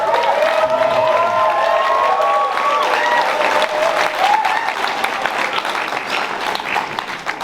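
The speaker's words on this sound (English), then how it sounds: "They deserve a huge round of applause." Wedding guests give the couple's parents a big round of applause at the reception, sustained crowd clapping with scattered cheers and whistles rising over it throughout.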